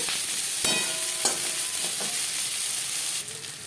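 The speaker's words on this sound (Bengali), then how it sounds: "পেঁয়াজ ভাজা হয়ে এসছে" Eight medium onions, cut into pieces, frying in oil in a pan after bay leaves, with a steady close sizzle throughout and a few light stirring clinks.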